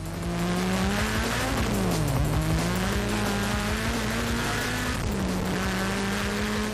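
A Detroit street car with more than 800 horsepower, a Viper-class machine, roars past loudly with a steady engine drone, its pitch dipping and rising around the two- and five-second marks and tire noise underneath.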